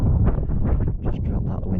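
Gusty wind on a Lake District fell walk buffets the microphone with loud low rumbling and rustling, continuous for a couple of seconds.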